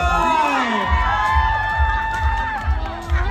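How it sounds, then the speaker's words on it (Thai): Audience cheering and clapping at a Thai stage event with dancing, crowd shouts and whoops rising over a thumping music beat, with a sustained tone and voices mixed in. "ขอเสียงปรบมือให้คุณแม่ดันด้วย"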